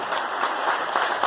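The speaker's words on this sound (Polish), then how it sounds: "Gorąco brawa" Audience at a charity concert applauding warmly, a continuous even patter of many hands clapping, close and steady throughout.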